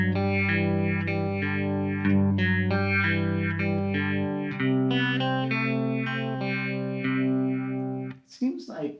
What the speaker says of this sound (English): Let's see what its phaser sounds like.